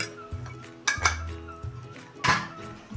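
A spoon stirs sugar into a pot of bajra millet khichdi with vegetables, making close, metallic clinks and scrapes against the pot in a few separate bursts.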